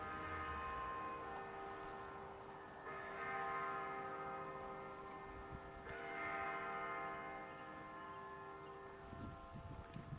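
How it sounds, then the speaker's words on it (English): A courthouse bell tolling at six o'clock in Toccoa, Georgia, heard faintly from a distance as slow, sustained ringing strokes with long humming decays, no talk. "That must be the courthouse bell."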